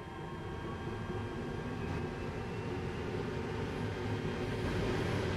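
A TGV high-speed train running in the Train Sim World 2 video game gives a steady, continuous rumble with a low tonal hum that holds evenly throughout, with no talk.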